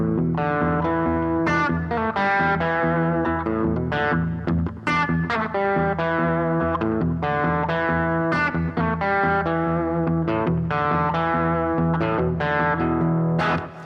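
Swampy rockabilly electric guitar riff, steady, loud and continuous with a thumping bass line and driving picked notes, slightly distorted, played alone for about fourteen seconds.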